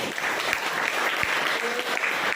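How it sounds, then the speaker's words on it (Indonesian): Classroom applause for a student, a steady burst of clapping filling the room at close range and fairly loud throughout. "Tepuk tangan buat Berni dulu."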